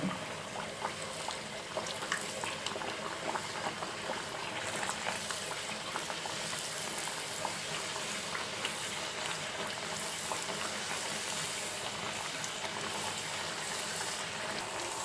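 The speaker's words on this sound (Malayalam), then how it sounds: "ഞാൻ എണ്ണയിലേക്ക് അത് ഇട്ടു എണ്ണ നല്ലോണം തിളക്കുന്നുണ്ട്" Neypathal dough, a rice-flour flatbread, deep-frying in boiling oil gives a loud, steady, close bubbling sizzle with constant crackle throughout and no voices.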